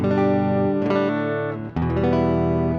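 A clean, dry electric guitar played directly into an audio interface, with no amp, plays sustained chords with a few changes, bright and close, no talking.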